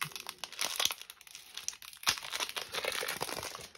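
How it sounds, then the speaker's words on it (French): Pokémon Giratina booster packs are torn open up close, a run of crisp foil crinkling and ripping in quick bursts with short pauses, and no one speaking. "On va s'ouvrir les boosters Giratina."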